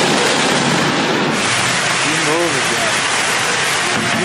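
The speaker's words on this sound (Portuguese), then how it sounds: "Começando aí a chuva e a rua já está começando a encher." Heavy rain begins to fall on a hillside street that is already starting to flood, a dense steady roar of downpour with a brief tonal whine midway.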